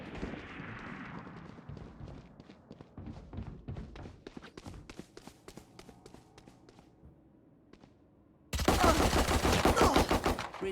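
Rapid bursts of gunfire from a Valorant-style tactical shooter game, with a Spectre submachine gun in play, crackle through a long stretch of short shots and clatter, then a loud dense burst of firing at the end.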